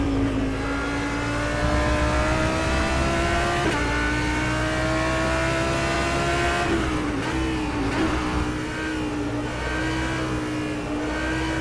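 A GT3 race car sliding sideways around Mugello in rFactor 2, its engine holding a loud, steady, continuous note with small pitch dips as it changes speed, unbroken for the whole stretch.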